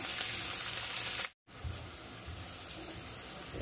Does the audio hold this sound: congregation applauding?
no